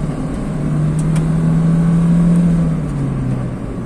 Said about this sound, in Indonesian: Ini kita gaspol nih.